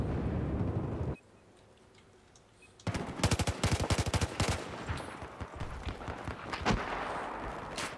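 Automatic gunfire from a CZ-805 rifle in Battlefield 4, team deathmatch on the Hainan Resort map; after a short near-silent gap, loud rapid bursts of shots crackle close by, followed by scattered shots and a busy battle backdrop.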